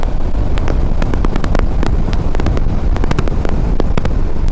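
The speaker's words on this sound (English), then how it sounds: "So that wind is hitting like the middle of my face." Steady, loud wind buffeting on a 2012 Yamaha V Star 950 Tourer on the road, a dense continuous rush with sharp gust-like crackles throughout and no talking.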